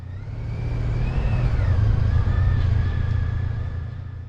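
Motor traffic idles and creeps around a motorcycle stuck in a standstill jam near Algeciras in southern Spain, a loud steady low engine rumble with a faint tone shifting above it, close and continuous, with no talking.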